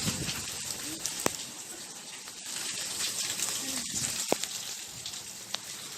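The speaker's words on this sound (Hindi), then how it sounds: "ये काफ़ी मज़े की बारिश हो रही है गाइस।" Rain falling in Faisalabad, a soft, even hiss of drops landing on surfaces, fairly faint and steady, with a few sharper drips and taps standing out now and then.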